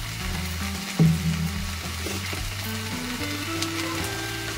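Ground coriander, cumin, chilli and Kashmiri red chilli powders sizzle steadily in hot oil for a Bengali fish curry, a close, continuous frying hiss with one brief louder bump near the start.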